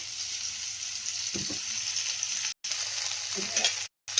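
Ginger garlic paste frying in a pan for a chickpea curry gives a steady, loud sizzle with light stirring scrapes and two brief dropouts.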